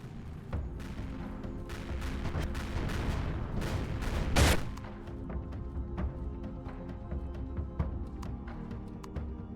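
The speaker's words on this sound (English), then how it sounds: "my turrets are still firing at it" Turrets firing in Empyrion Reforged Eden against drones: a dense, sustained barrage of sharp shots and rapid bursts, with a loud blast partway through, continuing steadily at close range.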